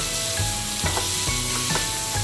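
Coriander and tomato chutney is stirred in a hot pan, a spoon scraping and knocking in a few quick strokes over a steady sizzle, up close with no voices.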